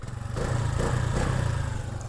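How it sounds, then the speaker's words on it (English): A Honda Navi small motorcycle engine runs with a low, steady throbbing pulse that swells slightly as it is revved, close and fairly even throughout, with no talking. "A couple revs of the engine here."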